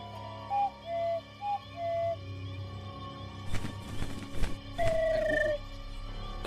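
An owl whistle in the adventure game Harveys neue Augen: short tonal hoots in a rising pattern at the start, then a longer whistled note after some clatter, over a quiet game backdrop.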